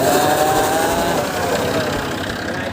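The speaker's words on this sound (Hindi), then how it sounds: "यहाँ ट्रैक्टर हाँक रहा है" A tractor engine runs on a road with a steady, continuous mid-pitched drone that holds constant at close range throughout.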